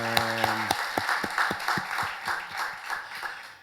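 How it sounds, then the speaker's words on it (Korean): Church congregation applauding during a worship service, a broad wash of many hands clapping with distinct rhythmic claps pulsing through it, while a sustained tone fades out early on; steady and moderately loud. "감사와 찬양과 영광의 박수 올려드리겠습니다"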